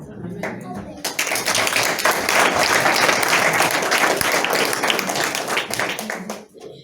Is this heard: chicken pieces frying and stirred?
no